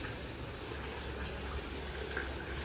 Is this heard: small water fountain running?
yes